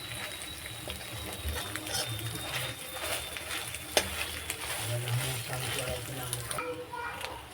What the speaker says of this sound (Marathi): आणि अंडी चांगली परतून घ्यायची कांद्यामध्ये।